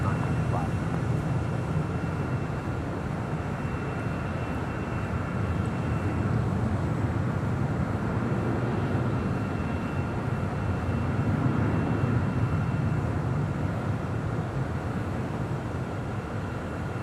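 A Spirit Airlines Airbus A320 arriving at LAX from New Orleans gives off a steady, distant jet roar that holds at a fairly even, moderate level throughout, swelling slightly toward the end.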